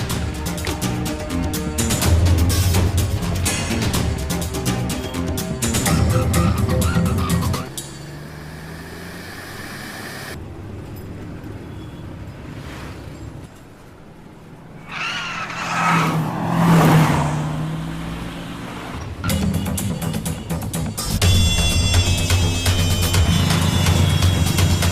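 A car pulls away and speeds off in pursuit of a taxi in a dubbed South Indian action film, engine noise rising and falling loudly over a dense music score, with a quieter stretch in the middle.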